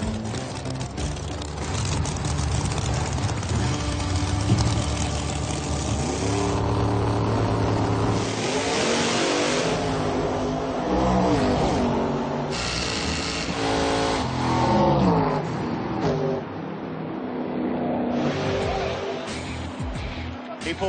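A nitrous-fed drag racing car launches down the strip in a Texas-versus-Oklahoma race, its engine a loud, sustained roar that surges and fluctuates with a voice talking over it.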